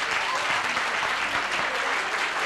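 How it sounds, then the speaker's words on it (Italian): Steady crowd applause as a curtain opens at an Italian festival stage event, many hands clapping in a dense, even roar at a constant level from start to finish. "Applauso."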